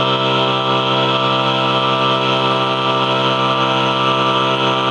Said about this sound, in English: here's the one on the piano, the equal tempered seventh